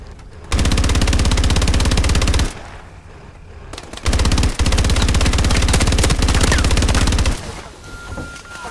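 Video game gunfire rattles in loud, sustained automatic bursts, two long volleys split by a short pause, then tapering off.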